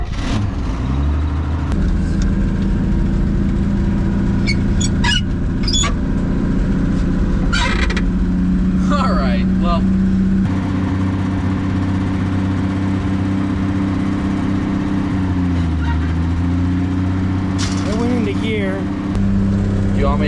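A restored 1955 Chevy 6100 truck idles and runs steadily outdoors in a field, its low engine rumble loud and continuous throughout, with brief voices and some bird calls breaking in over it.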